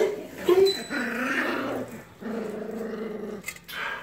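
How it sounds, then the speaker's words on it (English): Low, rumbling growls come from a four-week-old puppy in bursts, broken by a brief high yip, with no voices. "That one was growling."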